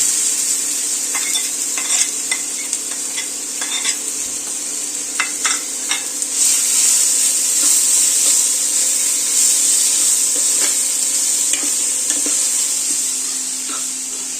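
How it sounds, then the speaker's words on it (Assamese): Grated bottle gourd frying in a pan for kheer, with a loud steady sizzle and hiss throughout, broken by scattered scraping stirs and clinks of the spatula. "এতিয়া লাউখিনি দি দিম মানে ইয়াৰ পৰা কেঁচা গোন্ধ নোযোৱালৈকে ফ্ৰাই কৰিম"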